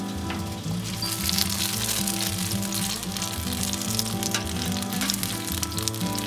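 Shishito peppers sizzling on a small griddle, a close, steady crackling hiss with soft pops, continuous throughout with no talking.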